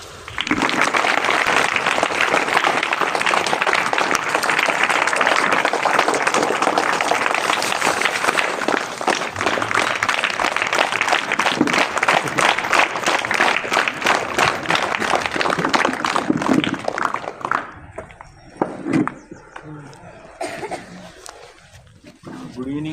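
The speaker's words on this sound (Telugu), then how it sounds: "క్లాప్స్" Audience applause at a ceremony honouring a field officer at an Aspari coaching centre event, a dense, loud sustained clapping that lasts about sixteen seconds before thinning into scattered claps and murmur.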